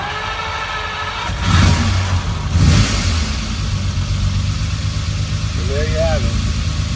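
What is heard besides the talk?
1967 Ferrari 330 GT 2+2 engine starting and revving in showroom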